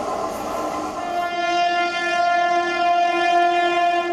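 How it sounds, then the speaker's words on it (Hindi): A Mumbai local train passes close by, a loud steady rumble of wheels and carriages joined by a sustained tonal horn or whistle that holds through most of the passage. "मेरे पीछे आप देख रहे हैं ये लोकल ट्रेन है"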